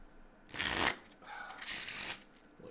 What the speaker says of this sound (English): These BCW sleeves do shuffle really well.